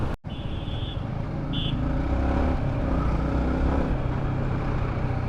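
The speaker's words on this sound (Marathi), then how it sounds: "मानगावचं ट्रॅफिक चालू झाले" Road traffic in Mangaon heard from a moving motorcycle: constant engine rumble and wind noise, with two short high beeps near the start.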